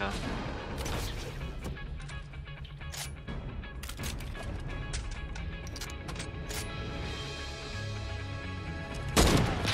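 AK rifle fire in Fortnite, sharp bursts of shots scattered across the moment amid game noise, some close and loud, others quieter, ending in a heavier bang; a voice is faintly present at times.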